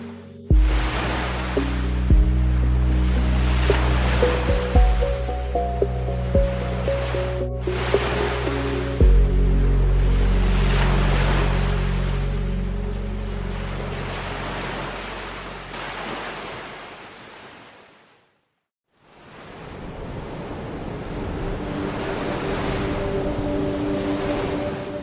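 Heavy sea surf rolls onto an island shore in Yemen in long continuous washes, loud and near, with buffeting wind on the microphone and a brief dropout before the waves resume.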